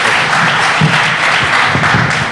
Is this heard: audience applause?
yes